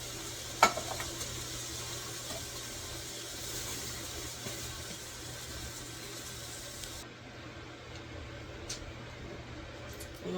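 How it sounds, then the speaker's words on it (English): Soft, steady sizzle of spaghetti sauce in a pot, a low continuous hiss with a brief clatter near the start and a low hum underneath. "Y'all hear that sizzle?"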